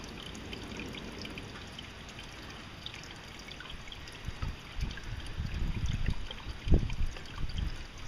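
Water runs through a homemade miller table used for gold prospecting, a steady trickling flow with splashing, gurgling surges growing louder toward the end, close and without speech.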